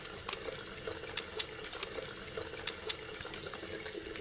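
Warm tap water runs steadily into a sink during hand washing, a constant faint splashing hiss broken by small irregular spatters as hands move under the stream.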